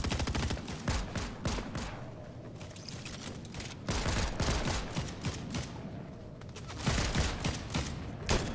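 Pistol gunfire in a Fortnite match, rapid bursts of sharp cracking shots in clustered volleys with brief lulls between them, loud and close over game background noise.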